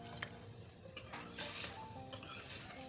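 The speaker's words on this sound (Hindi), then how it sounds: "इसमें ये साबुत गरम मसाला डालेंगे" Whole garam masala sizzling in a pan with cooked chicken for a degi-style chicken korma, a soft, steady frying hiss with light stirring and scraping, faint and close.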